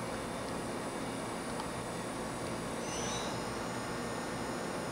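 The 14,000 RPM spindle of a 2014 Doosan HP 4000 II four-axis horizontal machining center whirs steadily at speed, a smooth, dense mechanical hum with a high whine that rises partway through.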